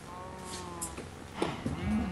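A cow in Minecraft gives a short moo, then a few other quiet game sounds follow across about two seconds.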